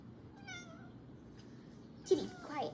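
A cat meows once, with a clear harmonic cry, followed about a second and a half later by a louder, rougher meow, both fairly close in a quiet room.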